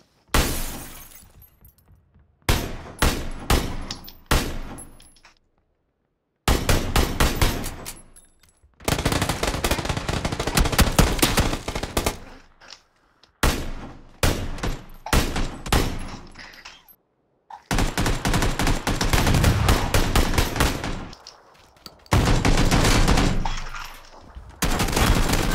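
SCAR-L rifle fire in a shooter game, loud rapid bursts in several long strings separated by short silences, close and sharp with glassy breaking sounds among the shots.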